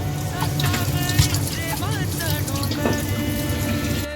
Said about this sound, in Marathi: हे सगळे खेकडे असे धुवून घेणार आहोत आपण स्वच्छ